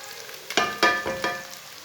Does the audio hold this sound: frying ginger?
yes